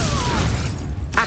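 An Expelliarmus spell cast in Hogwarts Legacy: a dense whooshing magical burst with a falling tone that fades, then a short bright crack near the end.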